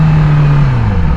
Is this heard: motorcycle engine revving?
yes